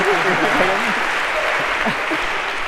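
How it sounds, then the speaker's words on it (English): Steady broadband clapping from a crowd fills the whole stretch, with a few voices talking over the applause. "Maybe a round of applause."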